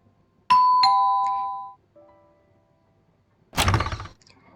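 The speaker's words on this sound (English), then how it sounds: "The doorbell rings and you open the door to find Marius standing there." A doorbell rings indoors with two clear chimes, then a softer tone and a loud thunk, like a door being opened, with no talking.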